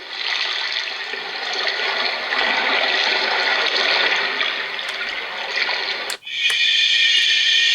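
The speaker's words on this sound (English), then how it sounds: "And listen to the waves." Ocean wave sounds from a white noise sleep machine wash in a steady, rushing hiss with slight surges, then cut abruptly to a brighter, thinner hiss near the end.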